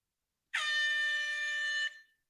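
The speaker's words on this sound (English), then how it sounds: "you find air horns annoying" One loud, steady air horn blast sounds alone for about a second and a half, then cuts off cleanly.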